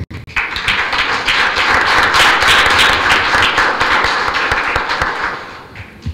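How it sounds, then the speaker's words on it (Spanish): Audience applause at a Spanish-language book presentation, a dense steady wash of many hands clapping that fills the room for about six seconds before tapering slightly at the end. "lo recibimos con un fuerte aplauso"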